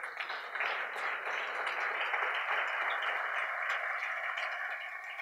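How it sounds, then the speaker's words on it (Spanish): A church congregation applauds during a Spanish-language sermon, making a continuous, even wash of many hands clapping that stays steady and fairly full for the whole five seconds. "Denle un aplauso a Cristo que Él vive."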